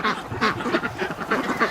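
A cold Rouen duck, kept indoors during a -22°C freeze, gives a run of close, loud nasal quacks in quick uneven bursts, with several calls following one another.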